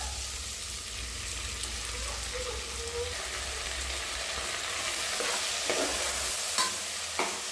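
Vegetables and ground masala for a pigeon pea sambar fry in oil, giving a steady close sizzle with scraping stirs and a few sharper clinks of the spoon near the end, with no talk.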